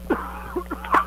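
A single person coughs a few short times close to the microphone, the bursts separated by brief pauses.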